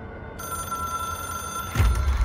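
A telephone rings in the game Control, a bright electronic bell tone held steady over a low rumbling hum that swells near the end, with no voices.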